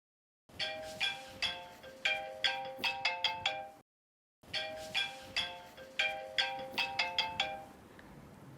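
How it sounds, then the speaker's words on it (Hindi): A mobile phone rings with a melodic ringtone while the caller, a mother, waits. The bright chiming phrase plays clearly, breaks off for a moment, then repeats, with no talking over it. "जी, हमारी माँ का फ़ोन आ रहा है।"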